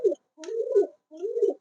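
A pair of Bombay pigeons coo close by in three soft, throaty calls, a short note followed by two longer rolling coos with brief silences between.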